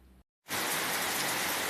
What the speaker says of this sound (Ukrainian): Нарешті на вечір пішов у нас дощ.